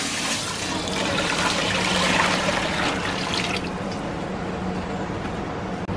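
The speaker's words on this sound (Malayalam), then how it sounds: "അതിലേക്ക് നമുക്ക് വെള്ളം ഒഴിച്ചു കൊടുക്കാം" Water pours steadily into a cooking pot to boil rice for a fried chicken dum biryani, a close, continuous gushing splash that stays loud for several seconds before thinning out toward the end.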